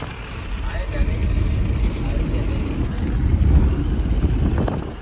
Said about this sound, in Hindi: कांच खोल दिए जिसकी वजह से आपको आवाज़ आ रही होगी पड़ पड़ पड़ पड़ पड़ पड़ पड़